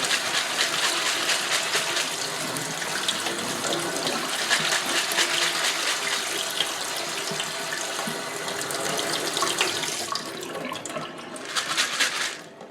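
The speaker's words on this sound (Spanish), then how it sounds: "Lo enjuagamos bien completamente." Water runs from a tap over cancha corn kernels being rinsed for Peruvian popcorn, a continuous loud splashing stream with a brief rattle of kernels near the end and no speech.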